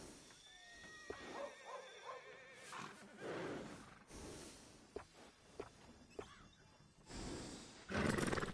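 A horse in a video game whinnies and snorts amid rustling and thumps, with bursts of broadband noise and a faint high tone in the background.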